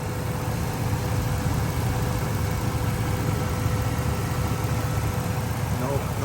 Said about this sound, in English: let's start up the truck so you guys can hear how it sounds now